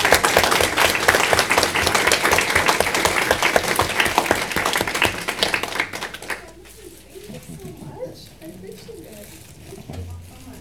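An audience at a city council meeting claps in a dense, loud round of applause for several seconds, then it quickly dies away, leaving a quiet room with faint scattered sounds and a few voices.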